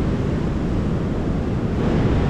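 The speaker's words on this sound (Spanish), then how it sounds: "ahora vamos a disfrutar de este precioso mar" Sea waves at Las Hojas beach in El Salvador make a continuous close roar of surf, blended with heavy wind buffeting the microphone.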